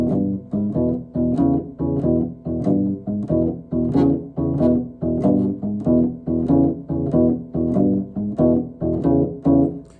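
An electric guitar plays a steady, chugging boogie riff, repeating short rhythmic chords in an even shuffle pattern throughout, with no voices.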